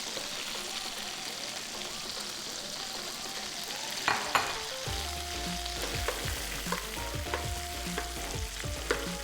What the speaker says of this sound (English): Let's melt that butter. Okay, let's add the onions.